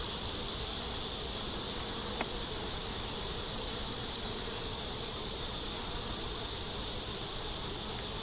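Honey bees swarm densely at a hive while feeding on a pollen patty, a loud, continuous close-up buzzing hum that holds steady from start to finish with no talk over it.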